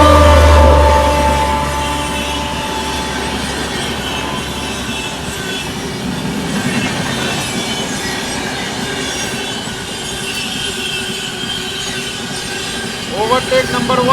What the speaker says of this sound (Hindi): रात के 9:30 बजे करीब अपनी पहली ओवरटेक करते हुए बाबा बैद्यनाथ धाम हम सफर